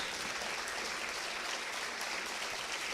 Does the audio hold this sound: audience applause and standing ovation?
yes